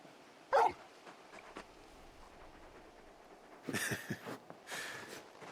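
A large dog whimpers and lets out short yips and soft barks, one sharp yelp early and then a cluster of whines near the end, close against a quiet game background in Final Fantasy XVI.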